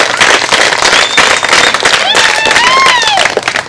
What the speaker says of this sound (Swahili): Tujipigie makofi wale ambao tunaona tuna vipawa.